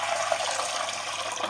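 Tap water runs steadily into a container in a kitchen, a continuous close hissing gush with no voices.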